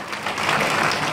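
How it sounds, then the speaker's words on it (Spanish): A congregation at a Spanish-language church service breaks into applause, a short, dense burst of many hands clapping together at moderate loudness. "Den un aplauso a Dios bien fuerte"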